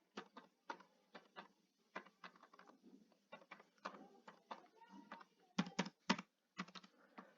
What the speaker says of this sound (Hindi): तो यहाँ पे रेंडमली मैं कोई भी नंबर टाइप करता हूँ